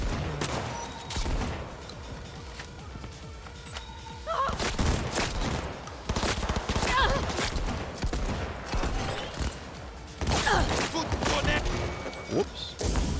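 Shotgun blasts ring out in a Cyberpunk 2077 firefight, a series of heavy booming shots at irregular intervals over ongoing game noise, with a voice talking in the mix.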